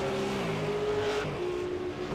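A race car in a sim racing game, a Mazda-sponsored online Supercar round at Watkins Glen, spins out at a corner: a steady engine drone with tonal whine, dropping in pitch midway, loud and continuous with no talk.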